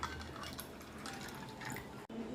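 Water being poured into a glass of nannari sherbet, a steady close liquid pour and trickle lasting about two seconds, quiet, with no speech.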